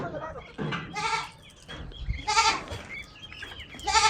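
Goats bleat repeatedly at close range, several wavering, nasal calls overlapping one another, with some soft background noise.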